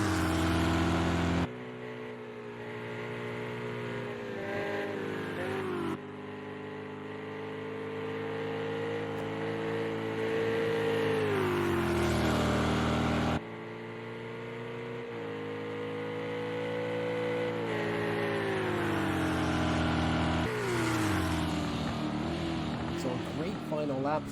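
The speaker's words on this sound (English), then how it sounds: "perfect tow as they head down towards Indianapolis, and T-Man taking 4th place." Engines of GTE race cars at Le Mans in a racing video game, a steady, loud droning whine that rises and falls in pitch through gear changes, with brief cuts between shots and a commentator talking throughout.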